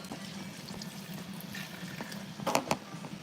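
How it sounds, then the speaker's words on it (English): Water is poured into a pot of egusi soup, a faint, brief splashing burst near the end of an otherwise quiet kitchen moment. "So I'm adding water into my egusi pot."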